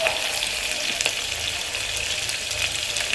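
Onions fry in hot oil with mustard and cumin seeds, giving a steady, close crackling sizzle with a few sharp pops and light stirring, no voices.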